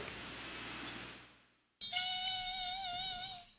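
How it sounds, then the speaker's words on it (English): Puppycat plush toy giving out a bright, squeaky cat-like meow with clear tonal harmonics in the second half, after a burst of hissy background noise and a short silence. "It just makes all these ridiculous puppy cat little noises."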